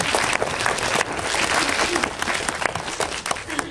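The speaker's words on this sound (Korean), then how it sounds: "박수" Sustained applause from a cinema audience at a Seoul film screening Q&A, dense and steady clapping that fills the hall throughout with no pause.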